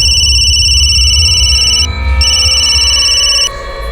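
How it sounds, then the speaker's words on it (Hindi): A telephone rings with a steady electronic tone over a low background rumble, the ring sounding in two long bursts separated by a short gap, close and loud, with no voices. "उसके भाई गौतम को फोन किया मैंने"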